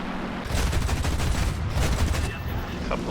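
Rapid machine gun bursts from a Ki-87 fighter in an aerial combat video game, loud, dense and close, rattling almost continuously over a droning aircraft engine, with a short lull before the firing resumes.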